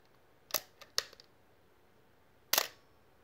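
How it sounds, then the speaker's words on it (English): A film camera shutter fires in sharp, close mechanical clicks: a quick pair with small trailing ticks early on, then a longer crisp burst after a pause, alone in a quiet room. "you can actually see it happening here with the shutter opening and closing right through here"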